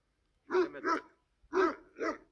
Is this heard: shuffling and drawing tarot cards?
no